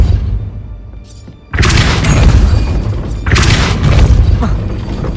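Depulso spell cast in the Hogwarts Legacy video game, a loud booming blast with crashing, shattering debris, followed by a second heavy burst a couple of seconds later.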